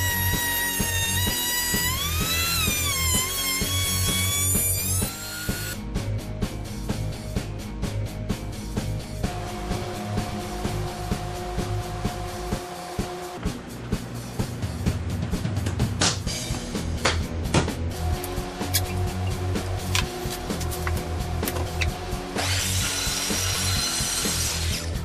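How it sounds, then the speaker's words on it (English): A saw rips a wooden board down to narrow width, a loud steady cutting whine running through most of the stretch with brief pauses and shifts as the cut stops and restarts. "I'm ripping the board down to 2 3/8 inches wide."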